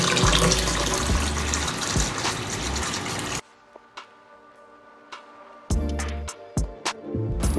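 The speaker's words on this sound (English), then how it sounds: "add some more water to our pitcher" Spring water poured into a pitcher, a loud gushing fill for several seconds, then a quiet pause broken by short splashes and a final brief burst of pouring.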